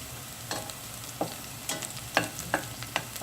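Onion sizzling in a pan for Bicol Express, a steady frying hiss broken by several sharp scraping stirs of a utensil, close and alone without talk.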